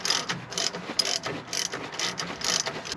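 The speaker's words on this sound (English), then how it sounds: "Now that I have my ratchet on, I need to get a wrench to hold this in place." A hand ratchet spinning the shaft of a Vanagon alternator while the shaft is held with a wrench, a rapid close clicking in repeated bursts.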